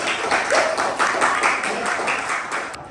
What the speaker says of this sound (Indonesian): tepuk tangan untuk kelompoknya Widi